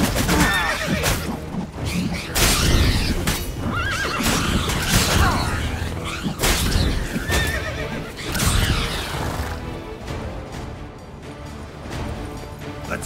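Roach the horse in The Witcher 3 gallops with steady, dense hoofbeats and gives loud whinnies and snorts, all under a continuous, full-bodied game soundscape.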